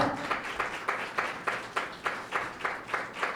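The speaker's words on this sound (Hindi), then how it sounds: "यीशु मसीह के लिए तालियां बजाएं कलीसिया।" A church congregation claps in a steady, unison rhythm during a Sunday worship meeting, roughly three claps per second at moderate volume, with no voices over the beat.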